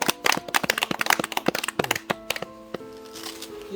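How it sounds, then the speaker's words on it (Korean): A group of people on a forest meditation trek clapping their hands, a quick flurry of sharp, close claps that ends after about two seconds, leaving faint outdoor background sound. "자, 박수 한번 치시죠."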